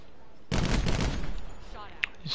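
Gunfire from a Swat MK II or Daemon MK II in Black Ops 4 multiplayer, a dense burst of rapid shots that starts abruptly and rolls on for about two seconds, fading toward the end.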